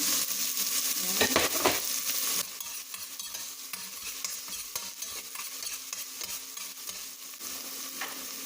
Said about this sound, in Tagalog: Sulog natin ang ating bawang.